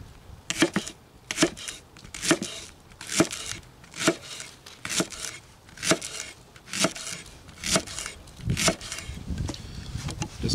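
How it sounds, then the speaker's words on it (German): A knife chops ingredients small for a chicken and rice pot cooked over an outdoor campfire, with steady, evenly spaced sharp cuts on a board repeating throughout, close and distinct. "Die Zutaten am besten so klein wie möglich schneiden"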